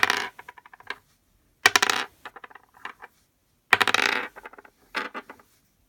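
A 7-sided die rolled on a hard surface, three separate throws, each a loud clatter settling into a quick series of fading bounces and rattles, close by with no talk.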